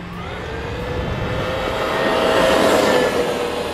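A Traxxas X-Maxx electric RC monster truck driving: a loud, whining motor with rushing tyre roar, swelling as it nears and peaking before easing off slightly at the end.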